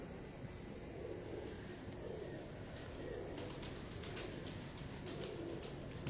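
Pigeons coo steadily in a loft in Lahore, the soft sound low and continuous, while wings flutter in brief bursts. The sound carries a light ambient hiss, and no one speaks.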